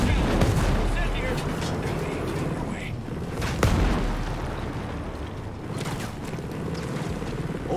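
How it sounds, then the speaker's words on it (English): Incoming mortar rounds in Ghost Recon Breakpoint boom with heavy, rumbling impacts and sharp cracks amid dense battlefield noise. "Heads up. Mortars incoming."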